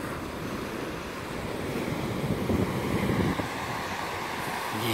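Waves washing onto the Sea of Azov shore near the village of Kamenskoye in Crimea, a loud, continuous surf rush with a swell partway through, mixed with wind buffeting the microphone.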